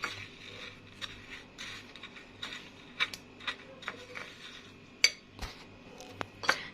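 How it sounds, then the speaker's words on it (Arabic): A spoon stirs yogurt with crushed biscuits, grated coconut and honey in a bowl, giving repeated light clinks and scrapes against the dish at close range, irregular and fairly quiet, with no talking. "هقلب كله مع بعضه"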